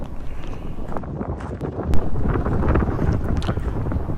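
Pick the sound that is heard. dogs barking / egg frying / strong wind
strong wind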